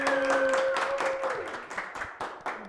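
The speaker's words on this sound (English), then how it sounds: "help me welcome the homie with another round of applause, please" A crowd at a Cape Town hip-hop show claps and cheers to welcome the artist Uncool, dense and steady at first, then thinning into scattered claps by the end.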